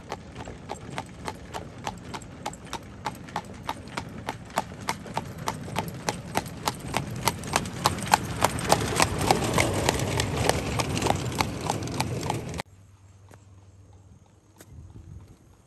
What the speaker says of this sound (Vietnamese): Xe ngựa này chạy cũng rất là lẹ luôn đó.